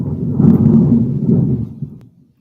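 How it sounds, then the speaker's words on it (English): Thunder rolling as a deep, loud rumble that swells for about two seconds, then fades abruptly into near silence. "She can't stand the thunder."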